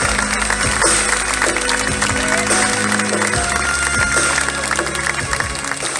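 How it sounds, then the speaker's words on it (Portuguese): A crowd applauds at an outdoor town festival by the river Vez in Arcos de Valdevez, sustained clapping mixed with cheering and background band noise throughout. "Uma grande salva de palmas para o Zé Malcuna"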